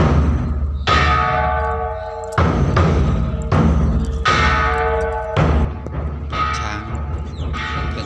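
A large temple bell struck repeatedly by a monk at a Thai Buddhist temple, each loud clang ringing out with a long shimmering decay before the next strike.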